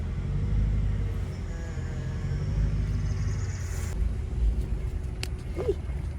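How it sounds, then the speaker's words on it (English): A Mercedes CLK55 AMG engine runs steadily with a low, smooth rumble from inside the car, a faint whine threading through it and no talking. "this car's running hootin' and smooth now"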